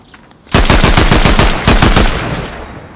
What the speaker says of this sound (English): Let's just do some test shots. Okay, it's kind of like Nisha's AR.